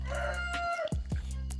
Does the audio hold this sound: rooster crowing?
yes